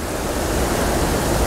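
A waterfall in a trout-filled canyon gives a continuous, loud rushing roar of falling water that holds steady throughout, with no other distinct sounds.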